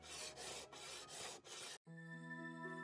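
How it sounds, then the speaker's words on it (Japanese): A scraping tool rasps across the face of a cast bronze mirror at a Kyoto alloy workshop, about five even back-and-forth strokes close up, then the scraping stops and a held musical tone takes over. "そして表面を削って薄くしていくんですね。"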